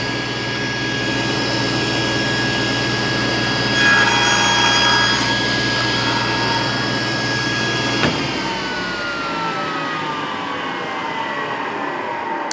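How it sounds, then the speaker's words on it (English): A table saw whines at full speed with a steady high tone, and a short harsher stretch marks a cross-cut through wood. The motor is then switched off and the pitch falls as the blade spins down, with no talking. "But I'll scoot my material back as I start the saw."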